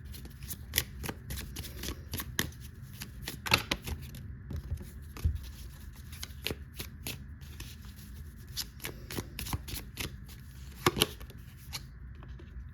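Tarot cards are handled up close, with repeated crisp flicks, slaps and shuffling rustles as upside-down cards are turned the right way up, coming in irregular bursts against a quiet room.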